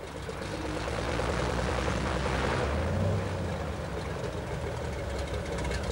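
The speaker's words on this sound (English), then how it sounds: "switch on and turn all the way to start. The aircraft fires." A Cessna 185 light aircraft engine sputters to life and settles into a rough, loud idling rumble, close by, with no talking.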